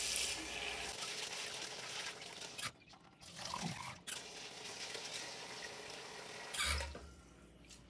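Glutinous rice being washed in a pot, with water swishing and pouring steadily, a few splashes and brief knocks, close and fairly quiet.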